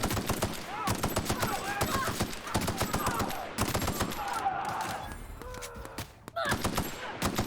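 A powerful gun in The Outer Worlds fires at distant enemies, loud rapid shots coming in quick rattling bursts separated by short pauses, with faint in-game sounds between volleys.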